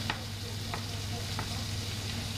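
Sea bass sizzles in butter in a pan, a steady close crackle with a few soft clicks from stirring or basting.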